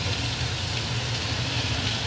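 Long-cut potato strips fry in a pan for a prawn and bitter gourd dish, giving a steady, close, continuous sizzle with a low hum underneath and no talking.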